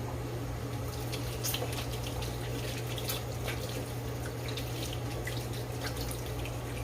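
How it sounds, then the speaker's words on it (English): Tap water runs steadily into a kitchen sink while hands are washed, a constant close hiss and splash with small irregular spatters throughout and a low hum beneath. "for your purposes, I always wash my hands again"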